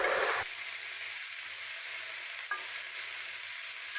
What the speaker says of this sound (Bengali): ধুয়ে রেখেছি যে লোটটা শুটকি মাছ সেটা ভেজে নেব ভালোভাবে